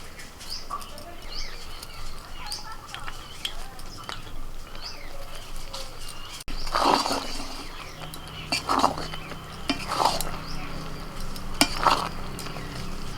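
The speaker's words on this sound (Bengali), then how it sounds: "ভালো করে নাড়াচাড়া করে নিতে হবে সব মিশিয়ে নিতে হবে" A spoon stirs thick jujube pickle with fried ground spices in a pan, giving repeated scraping and sticky sizzling bursts at a close, moderate level, more active in the second half, with no talk.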